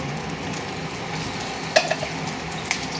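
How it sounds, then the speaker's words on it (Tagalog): Hotdogs heat in a hot pan at home, giving a soft, steady frying sizzle at low level, broken by a few sharp clinks and stirring knocks. "iinitin natin yung hotdog ni San Tomas"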